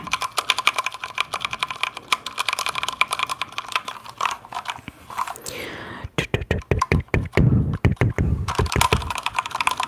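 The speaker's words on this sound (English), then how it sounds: "mini keyboard. It is very clicky and springy sounding" Rapid clicky, springy keystrokes from a small mini keyboard, typed close up in bursts with a brief pause midway, then dense fast tapping to the end.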